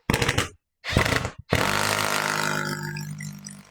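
A power driver sinks screws straight into a wall with no pilot holes for a kayak wall rack, giving two short loud whirring bursts and then a longer grinding run that slowly fades, close up and with no voices.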